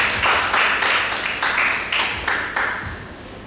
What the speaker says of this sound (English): Please give the round of applause for it.